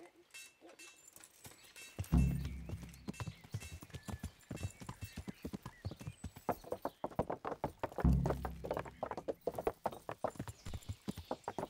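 Horse hooves clip-clop in a steady rapid rhythm throughout in the video game Kingdom Come: Deliverance, with a couple of heavier thumps and faint background voices.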